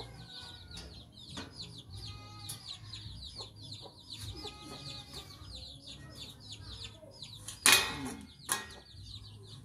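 Native chickens and their chicks cluck and peep steadily around a farmyard, with brief louder rustling and handling bursts near the end.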